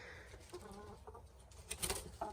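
Chickens coming out of a door at an off-grid log cabin, soft clucks and bird calls scattered over quiet outdoor background, fairly faint, with a louder burst of calls near the end.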